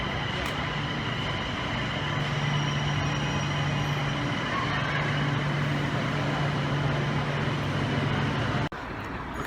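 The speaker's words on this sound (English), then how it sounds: "It's an express train, so it's only going to take 20 minutes to get up there." A steady, even rumble of an express train, heard from inside a carriage, with a constant low hum and broadband running noise throughout, ending in a brief sharp clunk near the close.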